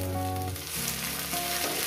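A pan of mustard greens mashed with rohu fish fries on the stove, crackling in a continuous close sizzle that stays level throughout, with no talking.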